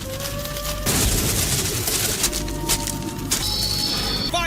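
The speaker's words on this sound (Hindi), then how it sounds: "Fire style flame bombs." Fire Style flame bomb explosions in a Naruto fight between Jiraiya and Pain: loud, dense blasts and crackling booms burst in rapid succession over a continuous roar, with bright whooshing tones cutting in near the end.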